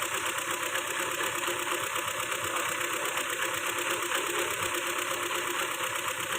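A Ford Fiesta engine idling steadily with a fault, a constant dense mechanical hum and faint knocking, running alone at close range without clear rises in revs.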